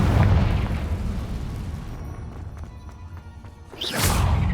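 A Confringo blast spell in Hogwarts Legacy: a heavy booming burst with a rumbling tail that fades, then a second sharp blast near the end, with no voices.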